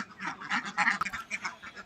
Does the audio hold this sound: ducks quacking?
yes